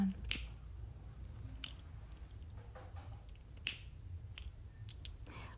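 Scissors snip through plastic fishing line while a vintage beaded bag is made, two sharp, close cuts a few seconds apart with small handling clicks in between against a quiet background.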